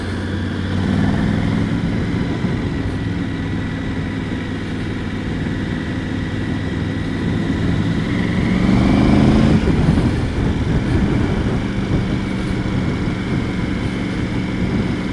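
Triumph Tiger 900 GT Pro engine while riding, a steady droning hum with wind rush, holding an even pitch with a brief rise midway, close and continuous.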